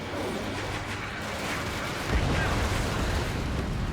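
Missile launches and explosions in the combat flight game Ace Combat 7 rumble as a dense, loud roar, swelling into a heavier blast about halfway through, with a voice talking over it.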